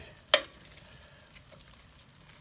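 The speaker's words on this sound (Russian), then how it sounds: "Все это дело у нас жарится." Seafood sizzles in a hot pan for creamy garlic pasta, a soft steady frying crackle with one sharp utensil clack near the start, close and alone without talk.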